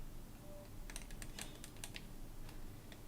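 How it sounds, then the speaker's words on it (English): Quiet bursts of typing on a computer keyboard, a quick irregular run of soft key clicks in the middle under a faint steady hum. "I'll have to just use the keyboard for now on this one"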